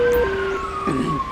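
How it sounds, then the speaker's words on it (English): An ambulance siren wails in GTA V's LSPDFR police mode, its sustained tones sliding and warbling loudly and close, with a faint engine rumble underneath. "So I call in for the ambulance."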